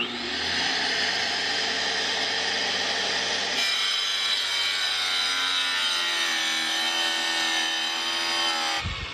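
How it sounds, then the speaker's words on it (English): A small wet tile saw cuts through tile in one continuous, loud, high-pitched grinding whine, and its pitch shifts partway through the cut before the blade stops abruptly at the end. "Got this nifty little wet saw,"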